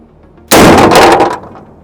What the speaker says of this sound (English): It's always fun shooting a rifle, especially a 50, when you're not sure if it's actually going to fire or not.